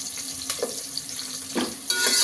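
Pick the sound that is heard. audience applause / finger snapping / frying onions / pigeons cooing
frying onions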